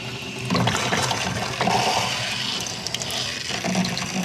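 Water runs steadily from a pop-up camper faucet, a close splashing flow that surges in a few bursts, with no talk.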